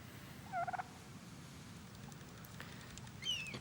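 A bird in the video game The Pathless lets out two short gobbling bursts, one early and a higher one near the end, over quiet ambient wind.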